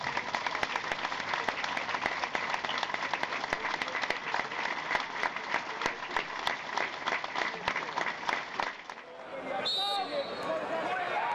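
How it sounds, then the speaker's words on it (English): A football stadium crowd at a Swindon Town home match gives a minute's applause, a dense, steady roar of clapping that holds for several seconds before tapering off, with a voice coming in near the end. "join us in a minute's applause to celebrate the lives of those who are no longer with us"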